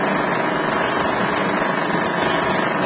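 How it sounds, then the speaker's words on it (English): A milling machine takes a light pass across square stock with a carbide insert cutter, a steady, continuous high-pitched whir holding an even level throughout. "I'm going to mill across."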